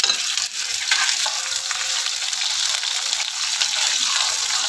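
Finely chopped onions dropped into hot tempering oil with cumin seeds and a whole dried red chilli, giving a steady, close, loud sizzle and crackle that holds evenly throughout with no talking.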